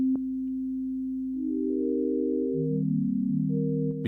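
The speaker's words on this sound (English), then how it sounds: "They all sound like they're kind of stemming from a triangle or a sine wave," An Elektron Syntakt's FM synth engine plays soft, sine-like tones that hold steady, then shift through a series of gliding pitches, clean and electronic with no voices.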